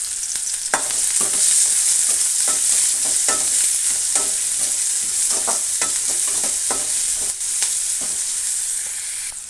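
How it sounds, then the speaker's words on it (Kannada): Green chillies, cloves and cinnamon frying in oil in a pan for an egg and potato curry: a constant bright sizzle with repeated scraping strokes of a spoon, close and loud, no voices. "2 ಹಸಿಮೆಣಸಿನ್ಕಾಯಿ ಉದ್ದಕ್ಕೆ ಕಟ್ ಮಾಡಿರೋದನ್ನು ಹಾಕಿ ಚೆನ್ನಾಗಿ ಫ್ರೈ ಮಾಡೋಣ"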